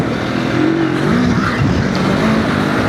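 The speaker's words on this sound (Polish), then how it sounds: "Teraz piłuję go na trójce i dla mojego ucha jest to wysoka prędkość obrotowa" A QJMOTOR SRT 450RX motorcycle engine revs high in third gear. The steady, loud drone holds for the whole clip, with rising and falling tonal whine near the microphone.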